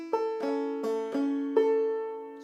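A short banjo phrase of five or six plucked, ringing notes played with drop thumb, including slid notes, played alone and close up.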